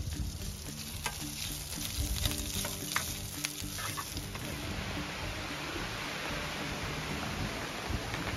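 Lechon baka, a roast beef, sizzles and fries steadily while cooking at a camp, a dense crackling hiss that holds at an even level throughout with some faint background clatter.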